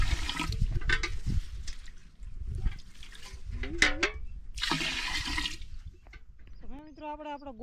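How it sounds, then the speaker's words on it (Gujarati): Water pours from a container into a pipe holding urea fertilizer in a bajra field, coming in splashing, gushing bursts separated by pauses, close by, while a person talks between the pours. "અને અંદર પાણી બધું રેડી દીધું મેં"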